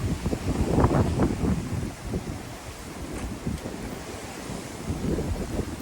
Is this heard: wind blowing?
yes